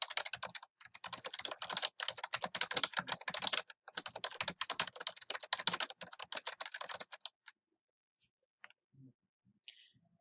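Fast typing on a computer keyboard, a dense run of close, crisp key clicks for about seven seconds, then a few isolated taps and silence.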